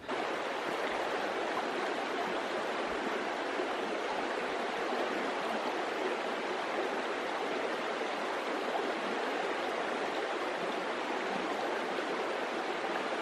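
A mountain stream in the Blue Mountains pours over rocks in winter, a steady, dense rushing wash of water, close and continuous, with no voices.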